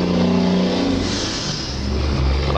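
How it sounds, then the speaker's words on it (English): A truck drives past on a road, a loud, continuous engine roar with shifting low tones that swells and fades slightly over a couple of seconds, close by with no talk. "I'll just let that truck go by."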